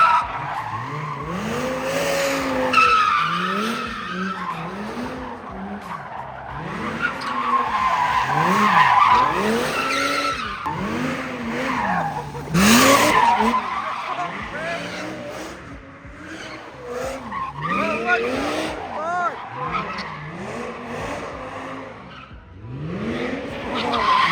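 A car drifting with tires squealing and skidding in long sweeping waves, the engine revving hard throughout, loud and close.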